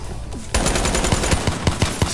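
Automatic gunfire from a video game gun. Rapid, evenly spaced shots begin abruptly after a brief quiet start and continue as a loud, steady burst.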